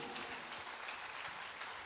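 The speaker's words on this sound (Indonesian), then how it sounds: "Tepuk tangan buat Tuhan Yesus." Congregation applause during a Sunday church communion service, a steady, even wash of many hands clapping together, fairly faint and continuous with no voices over it.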